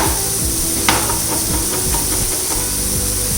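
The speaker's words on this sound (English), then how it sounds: "Let that saute for just a little while." Food sizzles and hisses steadily in a hot pan while sautéing for shakshuka, with occasional stirring scrapes and clicks breaking through the constant frying noise.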